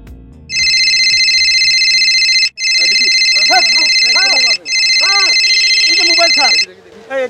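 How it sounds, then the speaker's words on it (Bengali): A mobile phone rings from an incoming call, its electronic ringtone repeating in loud bursts with short gaps, while people talk over it in Bengali in a crime drama scene. "মোবাইলে কল দেন তো, নাম্বার বলেন।"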